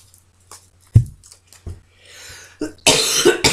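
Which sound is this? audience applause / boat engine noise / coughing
coughing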